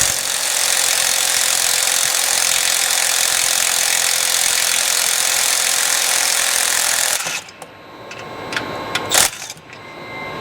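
A powerful electric tool running on a Loctited exhaust bolt of a 2021 Ford 7.3 gasser: a loud, steady, close whir lasting about seven seconds, then stopping, followed by a few faint clanks.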